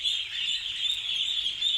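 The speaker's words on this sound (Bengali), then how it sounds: "এই যে দেখেন আমার হাঁসের বাচ্চাগুলা আজকে 7 দিন বয়স গেছে" Seven-day-old ducklings make faint, continuous high peeping in a short stretch, with no voices over it.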